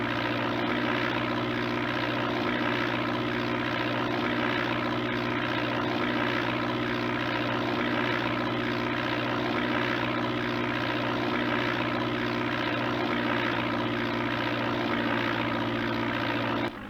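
Propeller airplane landing in the original Microsoft Flight Simulator game, a steady, loud engine drone with an even propeller hum that holds constant throughout, with no voices.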